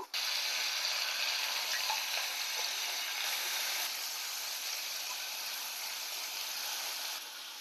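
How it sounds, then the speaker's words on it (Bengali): Vegetables and paneer frying together in a pan for a vegetable dal, giving a steady, loud, close sizzle with a soft crackle that runs through the whole stretch and eases off slightly near the end. No one speaks. "কেটে রাখা কিছু ভেজিটেবল আর পনির সব একসাথে ভালো করে ভেজে নেব"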